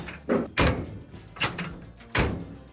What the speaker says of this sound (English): She's closing a lot better now. There's no slop in the door.